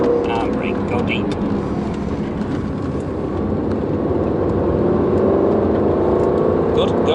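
A 2018 Aston Martin Vantage engine drones steadily under load on a race track, a loud continuous roar with wind rush, while a voice talks over it throughout.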